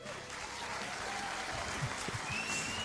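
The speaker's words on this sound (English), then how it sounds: "The applause.mp3 is getting a lot of mileage today." A burst of applause sound effect, many hands clapping steadily at moderate volume, with a few faint tones in the background.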